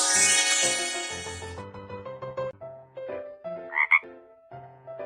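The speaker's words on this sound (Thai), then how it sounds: "กบสีเขียว" A green frog croaks in a children's cartoon school game during a hearing test, one short clear croak near the end over a bouncy synthesized tune.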